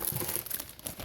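Thin plastic bags crinkle and rustle softly while medicine syringes are being sorted, with a continuous close crackling texture and no voices.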